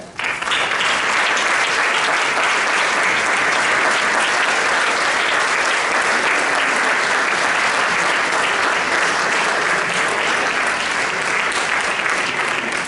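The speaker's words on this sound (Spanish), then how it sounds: "Un fuerte aplauso para él." A concert audience at an orchestra performance claps continuously, a dense, even wall of applause that holds steady and loud throughout without letting up.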